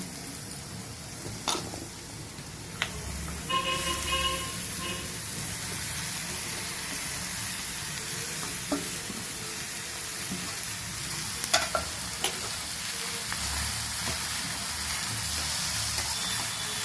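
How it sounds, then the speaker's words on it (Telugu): Ridge gourd pieces fry with browned onions in a pan, giving a continuous close sizzle while a spoon stirs them, adding occasional scrapes and clinks. "ఇంకా ఇప్పుడు బీరకాయ ముక్కలు వేసేసుకున్నాను"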